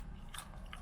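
A crunchy French fry being bitten into, a few quick close crisp crunches in a short burst.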